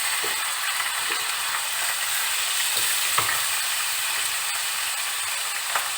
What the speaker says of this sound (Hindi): प्याज ब्राउन हो चुकी है। अब हम इसमें कीमा ऐड करेंगे।